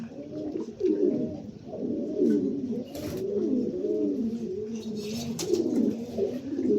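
Soft, continuous cooing from pigeons bathing fills the scene, layered calls overlapping with light fluttering and occasional splashing.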